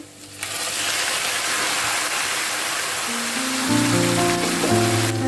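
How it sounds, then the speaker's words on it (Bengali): Water pours steadily from a tap while a cooking pot is washed, a loud continuous rush with a brief knock of the pot against the sink partway through. "পাতিলটা ধুয়ে পানিটা আমি দিয়ে দিলাম"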